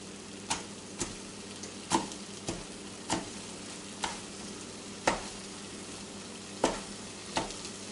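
Chorizo and onions sautéing in a pan, a steady soft sizzle broken by sharp utensil scrapes and clacks against the pan roughly every second.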